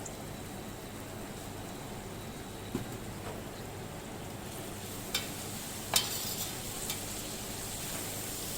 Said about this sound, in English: Everything is stir fried.